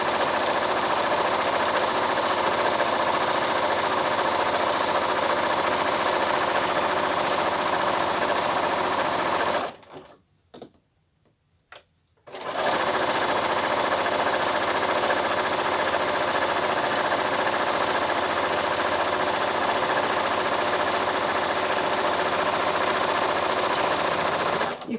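Domestic sewing machine stitching fabric strips for a woven quilt, a loud steady mechanical whirr running continuously close up, stopping for about two seconds midway before starting again and carrying on to the end.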